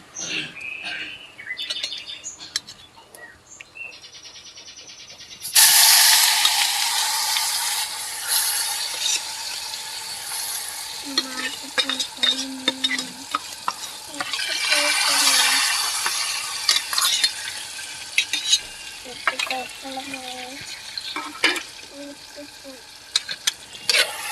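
Red chutney hits a hot mustard seed and cumin tempering with a sudden loud sizzle that keeps crackling while it is stirred. Birds chirp in the background, and the pan is quiet before the pour.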